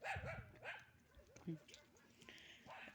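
A dog barks a few times nearby, with short yips, while people talk outdoors.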